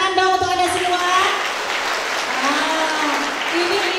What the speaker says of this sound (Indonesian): Boleh tepuk tangan dong untuk Anda semua